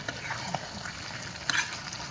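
Food cooking in a pan being stirred, soft sizzling beneath brief scraping and a clink of the spoon, quiet and close with no voices.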